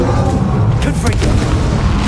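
A Harry Potter Confringo blasting spell explodes with a heavy, rumbling boom and a sharp crackling burst near the middle, loud and close, with a voice in the mix.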